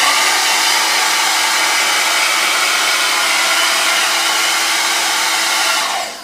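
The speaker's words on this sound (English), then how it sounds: "armed with a cheap hairdryer, this is where it gets noisy" A cheap hair dryer blows steadily and loudly throughout, a constant whooshing whine that cuts off abruptly at the very end.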